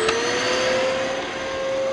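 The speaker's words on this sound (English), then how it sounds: "when I put the vacuum cleaner towards it" A vacuum cleaner runs in a video game, giving a loud, steady whooshing roar with a sustained whining hum. It stays constant for the whole two seconds.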